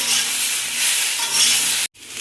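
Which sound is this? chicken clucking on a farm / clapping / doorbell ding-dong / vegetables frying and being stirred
vegetables frying and being stirred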